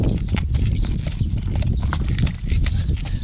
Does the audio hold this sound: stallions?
yes